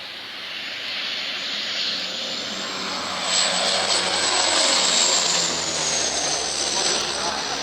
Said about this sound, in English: This plane helping out with a truck fire.